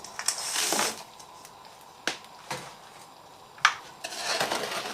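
A spoon scrapes and clanks against a metal pot of wild blackberry jelly with sugar over high heat in a few separate strokes, with a soft bubbling hiss between them.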